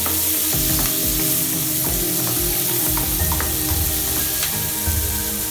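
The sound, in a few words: onions sautéing in oil with cinnamon and cloves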